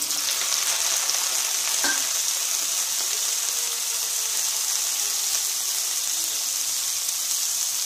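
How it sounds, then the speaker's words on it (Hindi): Soybean chunks frying in refined oil in a home kitchen pan, giving a loud, steady, close sizzle that runs throughout with a brief clink near the start and no talking. "अभी जो सोयाबीन में रखा था उसको फ्राई करूंगी।"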